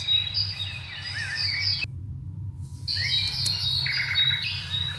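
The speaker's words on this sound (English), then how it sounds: "Birds chirping flying to the sky." Birds chirp and squawk in quick, high, bright bursts close by, with a faint insect-like hum beneath; the calls stop for about a second midway, then resume.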